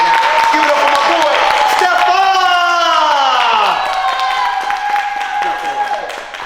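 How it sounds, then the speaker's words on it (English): Clapping and cheering from a lockdown comedy show audience: loud, close crowd applause with whoops and high, sliding shouts rising over it. The sound holds steady, then eases slightly toward the end. "I want y'all to start clapping right now"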